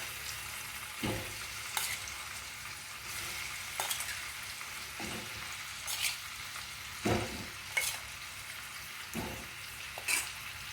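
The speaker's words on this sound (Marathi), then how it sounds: "अशी सर्व अंडी आपल्याला यामध्ये घालून द्यायची आहे. अंडी टाकताना गॅस स्लो करायचा" Boiled eggs go into sizzling masala in a pan for egg biryani, with a continuous soft frying hiss and repeated stirring scrapes and clatters at a fairly even rhythm, no voices.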